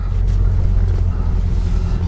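A 1965 Chevrolet Impala rolls along near a lake, its engine a low continuous rumble with steady road and wind noise, fairly loud and close, no talking.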